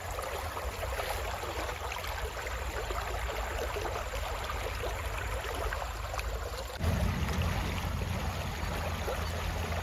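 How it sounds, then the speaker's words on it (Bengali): Mountain river water rushes steadily in a hillside stream, a dense continuous roar heard close by and alone, getting louder and fuller toward the end. "এই জলের আওয়াজগুলো কিন্তু সেরা লাগে।"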